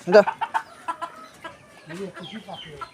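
Short, clipped clucks from a chicken near a young weaver bird that has dropped from its nest, coming in a few bursts over a few seconds, close and fairly clear, with faint background sounds.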